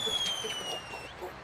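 Fireworks sound effect for a wedding, heard as a steady crackling, whistling wash of bursts with a long descending whistle running through it, loud and continuous with no voices.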